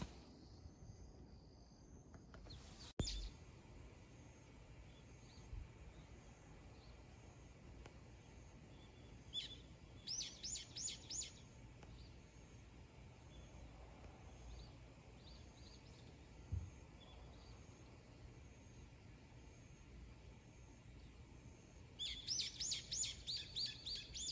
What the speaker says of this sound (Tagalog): Ang cute ng mga ibon. Ang dami nila oh.